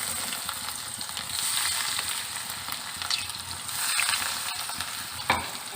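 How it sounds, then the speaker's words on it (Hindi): Chicken bread rolls frying in hot oil give a steady, close sizzle with crackling bursts that swell and fade, ending in a brief sharper splash. "ऑयल गरम हो चुका है। अब हम इसमें रोल डालेंगे।"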